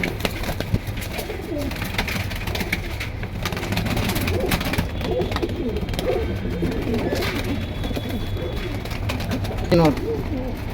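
Pigeons coo in a low, continuous murmur at a bird market in Keraniganj, with someone talking over them throughout and a brief louder call near the end.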